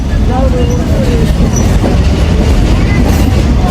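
A train at the Gujranwala railway station platform in Pakistan gives a loud, continuous rail rumble with a few faint wheel squeals rising over it.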